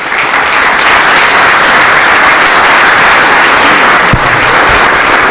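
Doctors standing at a cardiology conference opening ceremony give loud, dense, sustained applause from a large audience, continuous throughout with a brief thump near the end.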